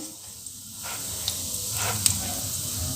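Hot oil sizzles steadily with a few sharp pops and crackles as mustard seeds, urad dal and cumin splutter in the pan, close and moderately loud.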